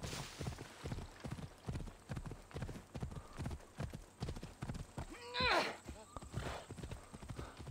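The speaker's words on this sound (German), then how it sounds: "Wir reiten über Stock und Stein durch und dazwischen Bäume hindurch." A horse gallops in the video game Assassin's Creed Odyssey, with steady rhythmic hoofbeats and a brief whinny, heard under someone speaking.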